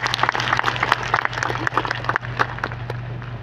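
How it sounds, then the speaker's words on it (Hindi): Audience at a chief minister's public rally clapping in welcome, brisk uneven applause from many hands over a steady low hum, close and fairly loud. "सब लोग ताली बजा के उनका स्वागत करें।"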